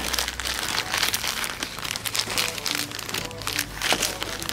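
Plastic bags crinkling and rustling up close, a continuous dense crackle with bursts of louder handling, no voices, while a loose car part for a Mitsubishi Eclipse D20 is packed away.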